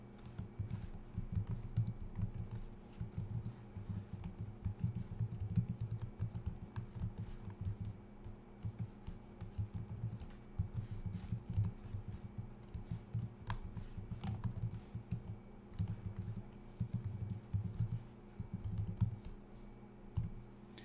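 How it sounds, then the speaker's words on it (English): Continuous typing on a low-quality laptop keyboard, a quiet, dense patter of soft clicks running for about twenty seconds with brief pauses and a couple of sharper taps. "I'm typing this on a laptop keyboard that isn't very good."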